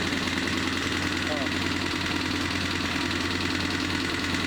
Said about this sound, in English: I got it running! This is the first vehicle I've gotten to run.